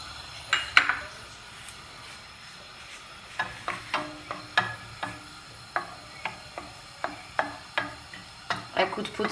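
Onion and fresh pepper pieces fry in a pan while a utensil stirs them, giving steady, rhythmic scraping clinks about every half second over a soft sizzle, close and fairly loud.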